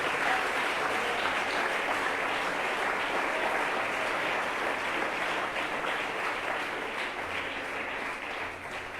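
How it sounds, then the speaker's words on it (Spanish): Sustained, dense applause from a church congregation for the King at a Spanish-language evangelical service, steady and loud for the whole stretch before easing slightly at the end. "Dele fuerte ese aplauso al Rey"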